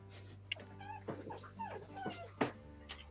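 A sad dog whimpers faintly in thin, rising and falling whines, several short cries spread out over a low steady hum.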